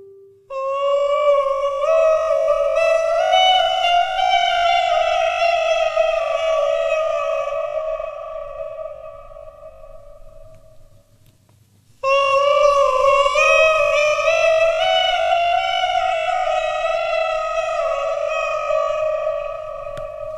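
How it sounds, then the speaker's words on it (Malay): A long, wailing, pitch-bending voice sounds like a possessed person's cry, processed with reverb and echo. It rises, fades out, then returns loud and eerie over a faint low rumble. "Orang disampuk, kemudian dijadikan sebagai sound effect dengan diletakkan reverb atau echo dalam suara berkenaan"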